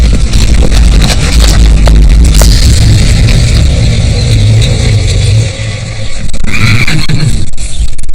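A horse whinnies loudly amid rumbling, scraping outdoor noise in Mongolia, with vehicle-like revving underneath and another neigh near the end.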